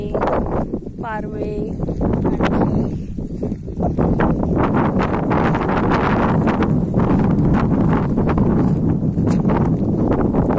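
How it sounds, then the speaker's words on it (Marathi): Gusty evening wind at a farmhouse buffets the microphone with rumbling bursts throughout, while a person talks over it and a brief whistle-like tone appears early on. "मस्त वर छान वारा येतो संध्याकाळच्या टायमाला"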